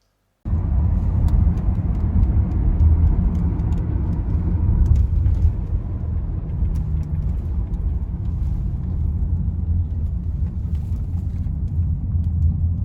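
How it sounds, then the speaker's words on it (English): Steady, loud engine and road rumble from the open back of a moving pickup truck in Thailand, continuous and unbroken for the whole stretch with no talk. "here is the car, the pickup car that I'm sitting in the back"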